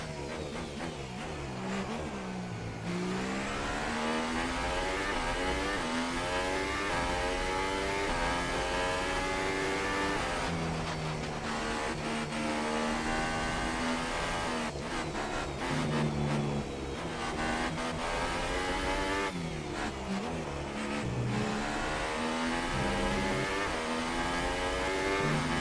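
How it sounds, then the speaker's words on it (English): Formula 1 cars in the racing game F1 2018 scream continuously at the Chinese Grand Prix, with the engine pitch rising through each gear and dropping sharply on downshifts, loud and close throughout. "Vettel's overtook Raikkonen."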